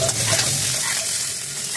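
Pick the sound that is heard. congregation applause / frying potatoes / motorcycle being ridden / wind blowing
frying potatoes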